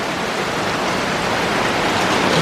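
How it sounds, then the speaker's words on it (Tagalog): Heavy rain pours onto a garden during a thunderstorm, a dense, steady hiss of downpour that fills the whole clip with no voices over it. "Lakas ng ulan."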